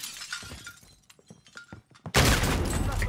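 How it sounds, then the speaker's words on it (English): Shotgun fire in a Warzone gulag match: scattered clicks and short bursts lead into a sudden loud, sustained crackling blast close up. "I just walked into that guy's shotgun"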